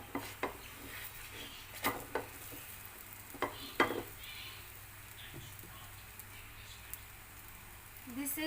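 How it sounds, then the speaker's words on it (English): A paneer-stuffed paratha cooks on a hot pan, giving a low, steady sizzle beneath intermittent scrapes and clanks of a spatula against the pan, close by, with no talk. "We have to put our paratha. So let's just cook it around a minute."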